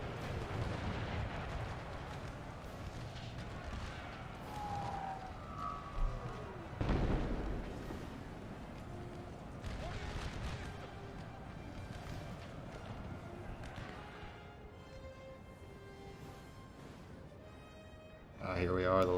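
Artillery fire in an American Civil War battle video game, with repeated booming cannon blasts and bursts scattered across the clip under ongoing battle din, one heavy blast standing out midway and a loud burst at the end.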